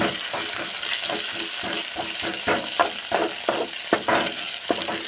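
Thuvaiyal ingredients are fried in oil in a pan and stirred, with a constant loud sizzle and rhythmic scraping spoon strokes that grow sharper toward the end.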